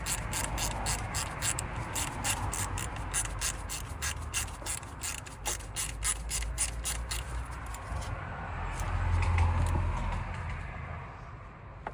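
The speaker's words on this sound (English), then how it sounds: "now we've got these bolts that we need to get out" A ratchet clicks rapidly and continuously as steel bolts are backed out of an aluminium water pump casting on a Jaguar Land Rover 2.7 V6 diesel, close and moderately loud, the clicking fading toward the end.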